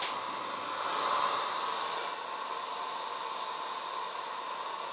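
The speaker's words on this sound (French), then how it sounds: "pour accélérer le mouvement, on va utiliser un sèche-cheveux." A hair dryer blows steadily over a watercolour painting of roses, giving a close, even rushing hiss that holds for several seconds and cuts off sharply at the end.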